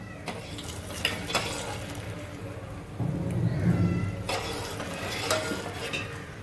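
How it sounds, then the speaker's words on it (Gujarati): A Kathiyawadi tempering sizzles and bubbles in a pan on the stove, a soft, continuous crackling hiss that swells slightly midway, with no talking. "આપણો વઘાર ઉકળે છે"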